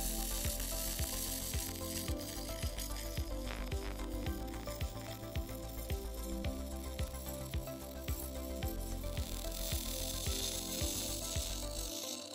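Galvanized steel with the zinc ground off both sides is being welded, giving a steady, dense crackling sizzle with rapid popping that runs without a break for about twelve seconds, close and fairly loud, with no voices.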